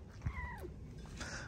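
A young cat living in an RV gives a single drawn-out meow that bends downward, followed by a faint second call, heard close but quietly over a steady background hum.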